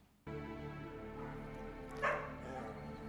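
A dog in the film John Wick barks and whimpers in a quiet, brief burst over a steady background tone, with one slightly louder yelp near the end.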